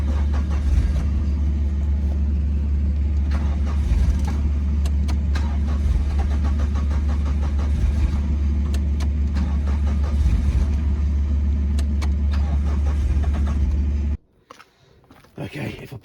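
A Suzuki Swift 1.6 AWD five-door saloon engine runs steadily, loud and close, with a constant low rumble and clicking tappet-like ticks for about fourteen seconds before cutting out abruptly, leaving only faint rustling.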